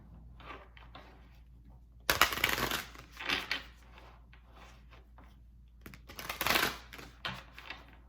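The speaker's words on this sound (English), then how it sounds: "Okay, let's pull cards from this deck." Two short bursts of a deck of tarot cards being shuffled, crisp papery riffling close up, separated by quiet pauses.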